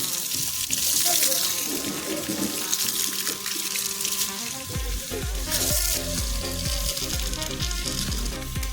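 Water running and splashing steadily from a pump motor as it fills up in a village setting, with a low mechanical drone and a continuous broad rush throughout.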